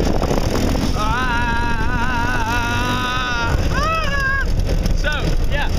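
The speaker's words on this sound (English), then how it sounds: "We're riding on go-karts and whatnot" A go-kart engine runs while riding, a steady rough roar under wind noise with a whining tone that rises and falls as it revs.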